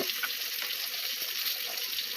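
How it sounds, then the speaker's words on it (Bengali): Eggplant fries in oil in a wok with a soft, continuous sizzling hiss, fairly quiet and steady over a short stretch, with no talking. "আগে বেগুনটা ভেজে নিব।"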